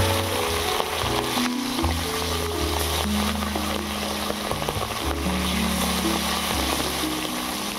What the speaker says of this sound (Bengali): মাছগুলো সব ভালো করে ভাজা হয়ে গিয়েছে